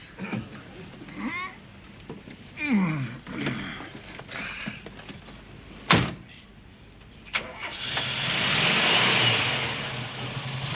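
An old car reverses as its engine revs up into a loud, rising roar that swells and fades near the end, after earlier voices and scattered knocks.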